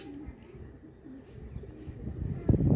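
Pigeons in a loft coo in low, repeated murmurs close by, the sound building and growing louder toward the end with some rustling and background noise.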